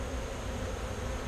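Honeybees buzz around an opened top bar hive during a summer inspection, a soft, continuous hum and drone heard at low level with no speech.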